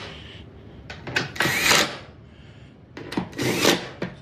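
Bolts on a PowerDeck lithium battery installation being tightened with a 5mm Allen key, giving two bursts of close scraping, rubbing metal-on-metal turns separated by short pauses, with no talking.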